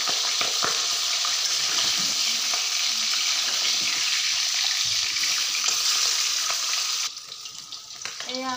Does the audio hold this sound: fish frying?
yes